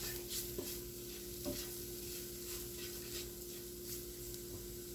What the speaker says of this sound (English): I'm going to cook the flour that's on the meat.